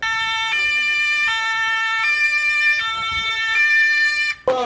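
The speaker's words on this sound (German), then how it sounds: "Natürlich müssen die beiden die Sirene auch noch checken." A loud two-tone siren alternates between high and low pitches in a steady rhythm, close by, ending with a brief clunk.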